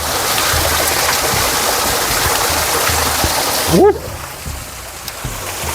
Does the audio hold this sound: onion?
no